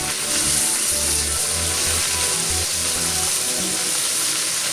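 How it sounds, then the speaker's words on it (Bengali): Fish pieces frying in hot oil give a constant, close hiss and sizzle with low bubbling underneath, steady for the whole stretch and without any voices. "সুন্দর করে মাছগুলোকে কিন্তু ভাজছি"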